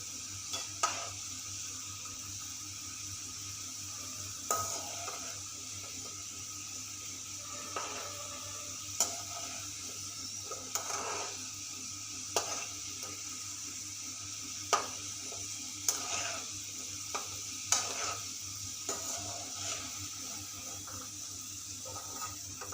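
Modaks for Ganesh Chaturthi deep-fry in oil until golden, giving a faint, steady hiss of bubbling broken by small sharp pops at irregular intervals.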